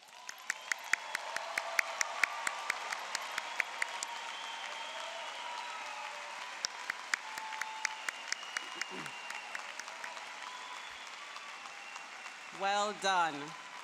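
A large audience at a law school spring commencement for the University of Illinois Chicago applauds continuously, a dense, even patter of many hands, with a brief voice near the end.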